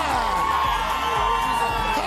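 A crowd gathered on an outdoor plaza cheers and whoops for nurses, a dense wash of shouting voices and applause that carries continuously throughout.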